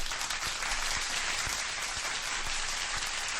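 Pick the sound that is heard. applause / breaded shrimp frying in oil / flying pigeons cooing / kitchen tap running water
applause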